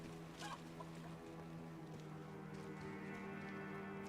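Chickens in Diablo II cluck softly over a low, humming outdoor ambience, a few short clucks near the start and then faint scattered calls, with no talking.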